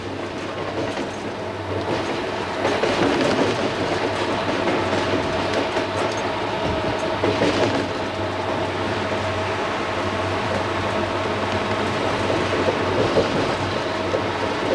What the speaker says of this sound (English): Here I am running trains.